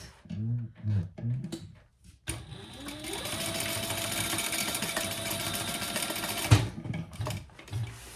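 A sewing machine basting pieces of a crossbody bag in place runs in one steady, close mechanical whir for about four seconds, with a person speaking briefly before and after.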